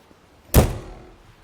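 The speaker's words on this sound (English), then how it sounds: "A solid thud of a Renegade door." An exterior bay door on a 2025 Renegade Classic 45 motorcoach swings shut with a single solid, heavy thud up close, then quiet.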